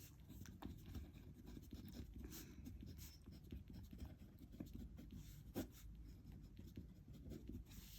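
Pen scratching across paper as a math solution is written out by hand, soft continuous strokes with small taps, very quiet and close, with no speech.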